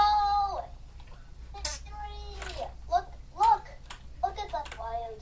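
A cat meows several times in short, close, wavering calls spread across a few seconds, with a voice speaking between and around them.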